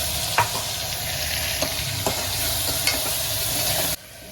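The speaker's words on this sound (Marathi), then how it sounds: "टोमॅटो छान लाल झाले टोमॅटोला तेल सुटलं" Tomatoes with homemade ginger-garlic paste fry in oil for a spicy green pea usal, a loud continuous sizzle with a few sharp scrapes and taps of a spoon stirring, cutting off abruptly near the end.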